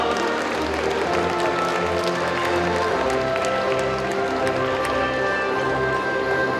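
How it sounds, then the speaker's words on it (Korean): Continuous applause from a large crowd as an athletes' delegation enters at a disability sports festival opening ceremony, dense and steady throughout, with some faint background noise mixed in. "여러분 큰 박수 부탁드립니다"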